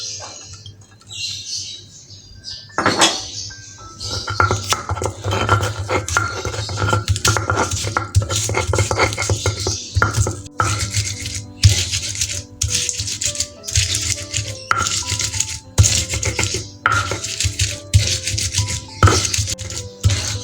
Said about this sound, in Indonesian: awalnya kita ulek dulu bawang merahnya ya sama bawang putihnya